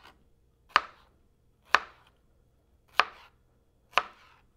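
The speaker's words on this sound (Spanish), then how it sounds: "cortando los sobrantes en cubos." Leftover fruit being cut into cubes on a cutting board, four crisp knife chops spaced about a second apart, close and clear in a quiet kitchen with no talking.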